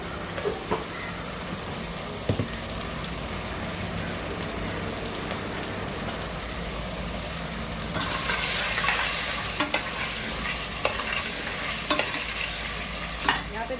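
Mutton pieces fry in a pan with a steady, close sizzle. Partway through the hiss grows louder as the meat is stirred, with a few sharp scrapes and clinks of a spoon against the pan and no talking.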